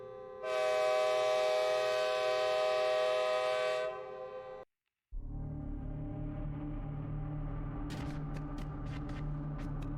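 A train horn blares loud and sustained for a few seconds and cuts off, then the heavy rumble of a passing train rolls on close by at night, with sharp clanks from the cars near the end.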